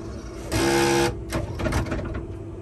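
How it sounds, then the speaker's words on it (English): A screw jack clutch on a GM 4107 bus conversion spins, its ball bearings popping in and out of their holes with a loud grinding burst followed by a run of rapid clicks and rattles. "It's got two little ball bearings and they pop out and go back in the holes as it spins around."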